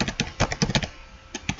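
Quick bursts of keystrokes on a computer keyboard while commands are entered to configure a Cisco network switch, with short clustered taps, a brief pause, then a few more presses, close and clear.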